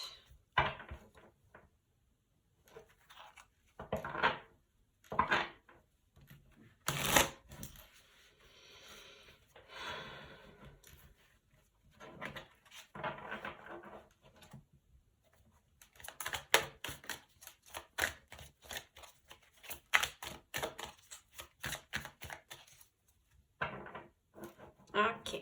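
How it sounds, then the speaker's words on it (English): Tarot cards shuffled during a card reading, a run of soft papery riffling bursts and clicks that come and go over about 25 seconds, close and fairly quiet, with some talk in places. "Just going to shuffle real good."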